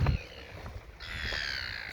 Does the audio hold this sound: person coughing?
no